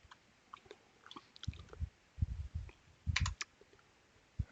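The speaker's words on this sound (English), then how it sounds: "I'm going to type winget and then space" Keys clack on a computer keyboard as a command is typed, in short uneven bursts of tapping with pauses between. The typing is close and fairly quiet, with no speech.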